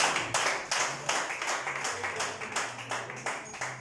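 Worshippers in a church clap for Jesus, a brisk, even run of sharp hand claps at a steady tempo, close and prominent, with a faint low hum underneath.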